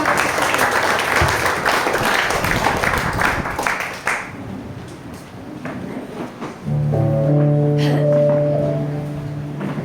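Applause from a church congregation at a Sunday morning service, a broad spread of clapping for about four seconds that fades, followed by low sustained organ-like tones.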